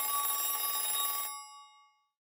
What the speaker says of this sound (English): Let it go on ringing.